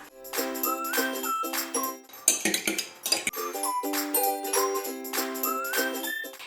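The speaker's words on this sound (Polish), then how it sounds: "Jajka wbiję do mleka i roztrzepię całość za pomocą widelca." Fork tapping and clinking against a dish as eggs are beaten into milk for scone dough, a quick rattling rhythm in bursts, close up, over soft background music.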